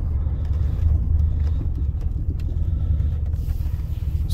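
A truck engine fitted with a BTR Chuck Norris cam idling as it creeps off the brake, a loud, steady, lumpy low rumble close by with slight choppy pulsing throughout.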